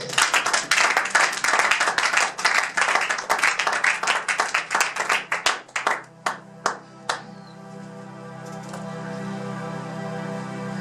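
A church congregation claps together in a fast, dense burst of applause, then thins to a few scattered claps before fading into a low hum.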